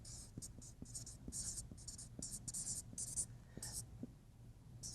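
A pen writes on a surface during an art lesson about underpainting, making a series of short, scratchy strokes in quick bursts over a low steady hum.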